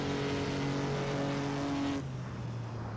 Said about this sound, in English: you can often max out your car like we're going to do here, 151 miles per hour